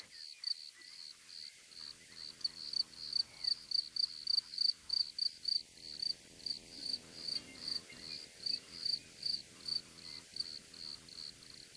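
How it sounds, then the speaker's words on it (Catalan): Crickets chirp at night in a steady, evenly spaced series of shrill pulses, moderately close and continuing alone over a quiet background. "Entre els insectes, les cigales i els saltamartins deixen pas als grills, que comencen a sortir dels seus amagatalls."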